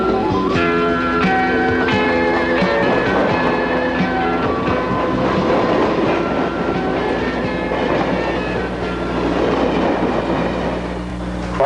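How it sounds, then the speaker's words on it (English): A Conrail freight train hauling a load of brand-new Chryslers and Dodges rolls past close by, a loud, steady rumble with rhythmic clickety-clack of wheels and metallic ringing, no voices. "another Conrail crew takes on an outbound train load of brand new Chryslers and Dodges headed north and east"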